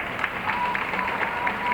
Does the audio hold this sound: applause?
yes